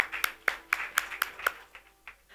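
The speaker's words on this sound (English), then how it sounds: "I think applause should continue" A few people clapping in a sparse, uneven rhythm at a television news panel, about seven distinct claps fading out, fairly quiet with little crowd behind them.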